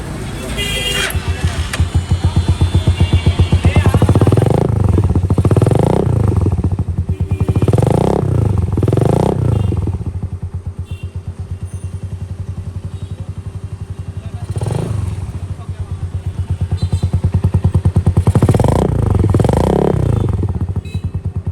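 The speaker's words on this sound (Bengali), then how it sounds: "দেখেন এক্সস্টের সাউন্ডটা শুনেন" A Chinese 125cc motorcycle modified into a cafe racer idles with a loud, throaty exhaust note and is blipped into several repeated revs that rise and fall over about twenty seconds, close to the listener.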